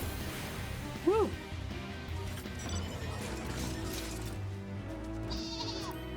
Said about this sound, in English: I love the sheep sounds.